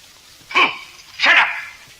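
A dog in a Tamil film scene gives two short barks about half a second apart, close and fairly loud against a quiet background.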